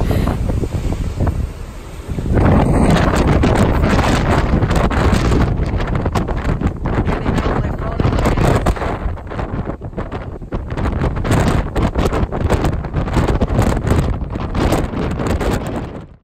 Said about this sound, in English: It's very windy and dangerous